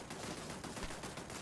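Dense gunfire in the space game Starfield, a sustained, steady rattle of rapid shots filling the whole moment at moderate level, with no talking over it.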